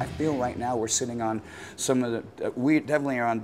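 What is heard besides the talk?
No everyday noise stands out behind the speech.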